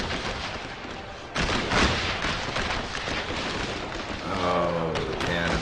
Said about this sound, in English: Oh, the cannon fire.